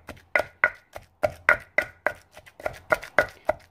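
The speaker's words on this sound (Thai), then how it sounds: "เราจะตำพริกกระเทียมหอมไปเรื่อยๆนะคะให้มันละเอียด" Chili, shallot and garlic pounded in a mortar with a pestle for a Thai crab-fat chili paste: a steady series of about twelve sharp, close thuds at a brisk, even rhythm, with no talking.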